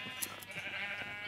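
A Minecraft sheep gives a short, faint nasal bleat, one wavering call that stands alone on a quiet farm.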